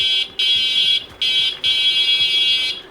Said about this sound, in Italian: si sente il beep beep beep della freccia